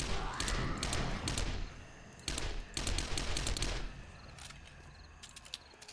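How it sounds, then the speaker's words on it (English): In the video game 7 Days to Die, a submachine gun fires at a horde of zombies, loud rapid bursts of gunfire with short gaps between volleys and dull thuds underneath. "Let's finish them off with a little submachine gun here."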